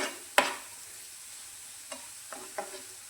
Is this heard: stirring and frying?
yes